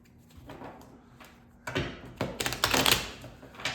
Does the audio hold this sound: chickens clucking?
no